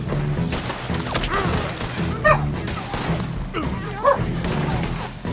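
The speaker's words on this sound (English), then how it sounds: "I've seriously no idea what's setting off my dog." Sharp dog barks in Red Dead Redemption 2, a few distinct yelps standing out over game ambience and thuds, with someone talking faintly underneath.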